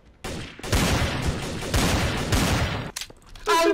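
Rifle gunfire in the video game Trouble in Terrorist Town: dense rapid shots in sustained bursts, loud and close, with a short pause and then another burst.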